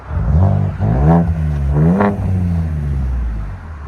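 A 2.7L EcoBoost Ford Edge ST exhaust, muffler removed and fitted with LCGP resonators, blipped twice in loud nearby revs that swell and drop back to a deep idle rumble.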